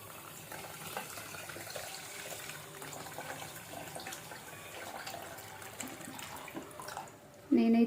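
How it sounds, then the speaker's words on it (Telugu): Water is poured steadily over sugar in a pan to make gulab jamun syrup, a continuous close splashing flow throughout with a sharp louder clatter at the very end. "లెవెల్ వాటర్ వచ్చే వరకు వాటర్ని అయితే వేద్దాం"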